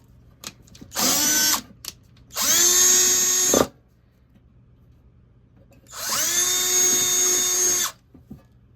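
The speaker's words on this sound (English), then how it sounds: "I have my cordless drill here. I've got the 5/32 drill bit in" A cordless drill with a 5/32 bit drills into an Erector model truck part in three separate bursts of steady whirring, each lasting about one to two seconds, with short pauses and light handling noises between them.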